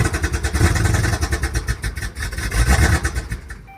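A 2017 Dodge Charger engine with a misfire and no power runs roughly, its erratic RPM giving a loud, uneven, pulsing idle that stutters and surges before cutting off at the end.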